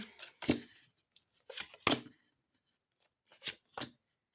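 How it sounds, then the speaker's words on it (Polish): Cards being shuffled and flung out in several sharp, close bursts of papery flapping, in two clusters separated by a short quiet gap. "Ale karty latają."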